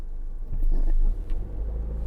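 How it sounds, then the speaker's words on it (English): Multi-lane highway traffic heard from inside a moving campervan, a low, steady road rumble that swells briefly as vehicles pass nearby. "Traffic here is crazy."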